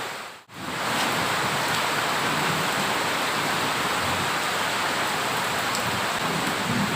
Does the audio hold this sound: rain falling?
yes